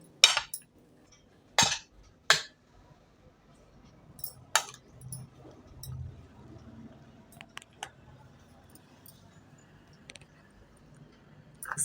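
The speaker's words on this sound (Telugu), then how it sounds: "ఇప్పుడు చక్కగా ఇవన్నీ కూడా కలిపేసుకోవాలి." Chopped carrot, bottle gourd, tomato and cucumber salad being mixed in a bowl, with a few sharp spoon clinks against the dish and soft scraping and stirring in between.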